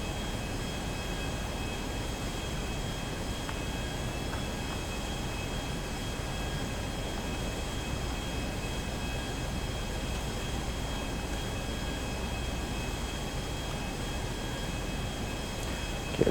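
Airplane flying in GTA V, a steady, continuous engine drone with broad rumble and faint high tones, even in loudness throughout with no speech.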